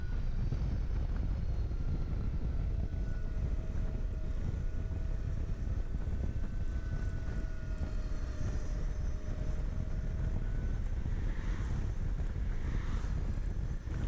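A Zero DSR/X electric motorcycle out on a ride: a steady, loud rush of wind buffeting the microphone, with a faint, thin motor whine gliding in pitch underneath and no voices.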